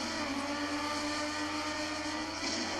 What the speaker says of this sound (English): Mario's just boosting his way through this track here.